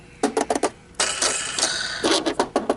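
Chrome part of a Riccar canister vacuum with a metal base plate being tapped by hand, giving a series of close, sharp metallic clicks in two quick bursts around a brief stretch of steady noise.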